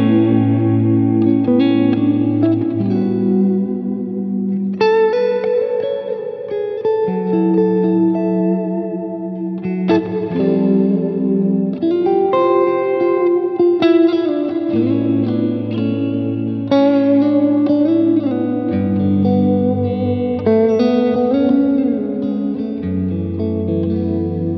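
Ibanez signature electric guitar played through a Laney amp rig with effects, carrying a melodic lead over chorded passages with shimmering chorus, echo and reverb, sustained notes and flowing phrases for over twenty seconds, no voices.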